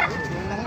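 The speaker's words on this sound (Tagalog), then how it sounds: "Ganda ng mga manok dito ngayon oh." Chickens and roosters at a Baliuag tyangge market make a brief clucking, crowing burst, close and fairly loud, heard over a busy background.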